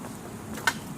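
Honeybees buzzing around a newly installed backyard hive, a soft steady drone close by with one bee passing briefly louder, no talking.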